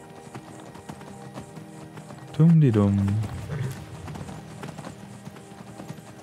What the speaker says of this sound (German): Dann reiten wir mal ein bisschen und schauen, ob auch alle ihre Pferde haben.